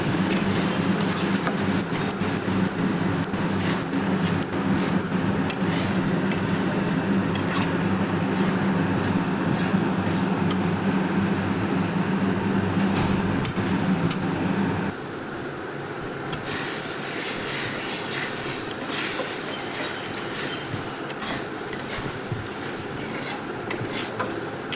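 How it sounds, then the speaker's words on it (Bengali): Ground paste of ginger, garlic, dried chilli, cumin and coriander sautéing in oil in a pan for chicken, a continuous close sizzle with clinks and scrapes from stirring that quietens partway through. "মশলাটা দিয়ে আমি এবার খুব ভালো করে কষিয়ে নেব।"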